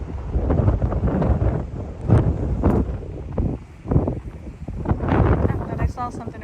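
Strong gusts batter the microphone in a cemetery, a loud, continuous roar of wind noise that surges and dips across the whole stretch.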